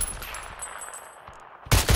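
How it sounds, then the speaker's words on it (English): Gunfire from a rival squad in the battle royale game PUBG crackles as quick faint distant shots, then a louder close burst near the end, with no voices. "This other team shooting at them."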